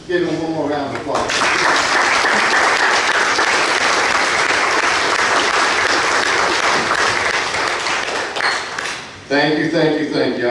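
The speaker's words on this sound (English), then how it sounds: "Give him one more round of applause." Loud, dense applause fills a city council meeting chamber for several seconds, steady clapping from the whole audience with voices at the start and end.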